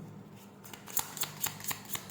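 A ghost tarot card deck is shuffled close by, a soft riffle followed by a quick run of sharp papery flicks and snaps, quiet and alone.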